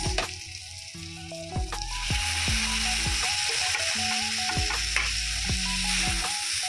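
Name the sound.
tomatoes added to frying onions, sizzling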